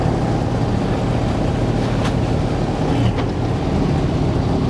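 A chopper pump in a wet well cutting through a mop head: a loud, steady mechanical drone and rumble with a couple of faint ticks, with no voices.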